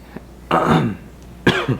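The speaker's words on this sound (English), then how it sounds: "sorry, I've been coughing like crazy." A few harsh coughs from one nearby person: a short burst, a pause, then a louder pair of coughs close together.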